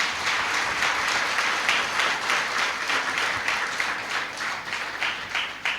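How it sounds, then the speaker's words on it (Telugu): A church training-programme audience applauds in steady, dense clapping that carries on throughout and fades slightly toward the end. "క్లాప్స్ కొట్టి"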